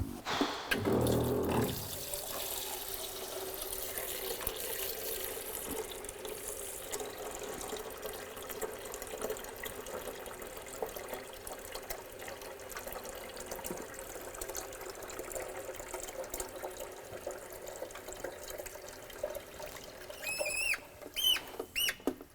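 Tap water runs steadily into a kettle being filled for tea in a workshop, with a louder splash at the start that settles into a constant, moderately quiet stream.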